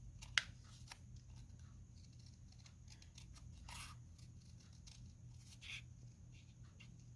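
Scissors trimming a paper circle, a few faint, quiet snips and paper rustles spread out over a low steady hum, close and soft with no talk.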